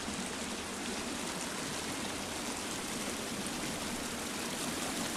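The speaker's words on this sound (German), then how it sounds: "Das Wasser ist extrem laut." Loud, steady rushing water from a stream or waterfall in the survival video game The Forest, a constant dense roar with no breaks and no voices.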